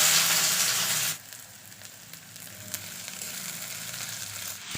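Ginger garlic paste and spices fry in a pan, starting with a loud, bright sizzle that drops sharply after about a second to a steadier, softer crackle with occasional pops.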